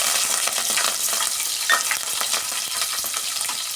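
Cumin seeds, green chillies and curry leaves frying in a pan, a steady close hiss and crackle of hot oil running throughout, with no talking.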